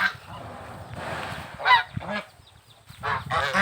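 Geese on a farm honking in several loud, close calls, spaced irregularly between quieter stretches.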